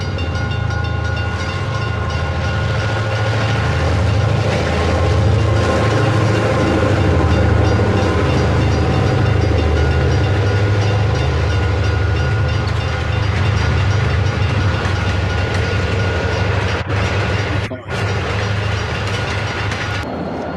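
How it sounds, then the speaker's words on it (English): A big Erie Lackawanna E8 passenger train runs westbound with a loud continuous diesel rumble and rolling clatter of cars, holding strong throughout with a brief dip near the end. "E8 westbound, big train."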